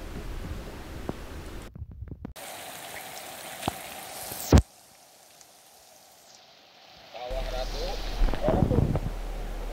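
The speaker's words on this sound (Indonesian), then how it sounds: "Di derasnya hujan" Heavy rain pours down at Kawah Ratu volcanic crater, a steady dense hiss that drops away briefly and returns strong, with a few sharp knocks and bumps mixed in.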